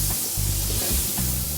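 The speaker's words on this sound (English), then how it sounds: "we're going to let that melt, get that nice little sizzle" Steady crackling sizzle of butter melting in a hot pan for grits, continuous and close, with no voices.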